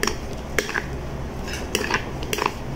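Ingredients being mixed with salt in a bowl for ginamos, with several sharp clinks and scrapes of a spoon against the bowl at irregular intervals, close and fairly loud.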